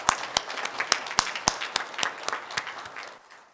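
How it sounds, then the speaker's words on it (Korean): A church congregation applauding at a Korean worship service, dense clapping with sharp individual claps standing out, fairly loud and close, thinning toward the end. "다시 한번 마음을 크게 열고 영광을 받으시는 하나님께 영광의 박수 올려드리겠습니다."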